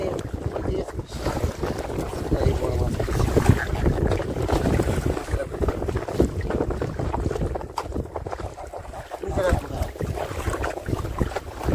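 Wind gusts roar into the microphone on a Sundarbans river beside a small fishing boat, with a constant low rumble and scattered knocks, and faint voices briefly under the noise.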